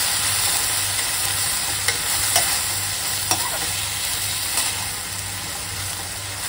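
Capsicum, carrot, onion and chilli stir-fried in a pan without spices, a loud steady sizzle with periodic scraping stirs and a few light clicks over several seconds.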